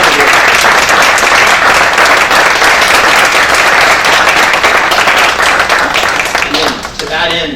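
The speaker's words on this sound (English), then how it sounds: "I just want to give them a round of applause for all the work" Loud, sustained applause from an audience at a school parents' annual general meeting, many hands clapping steadily for about seven seconds before tapering off as a voice begins.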